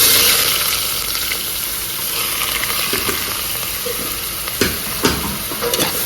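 Hot oil frying and sizzling in a pan while cooking Kerala kadala curry, a steady hiss with occasional stirring clinks and scrapes, no talking.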